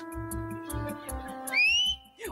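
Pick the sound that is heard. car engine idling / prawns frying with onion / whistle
whistle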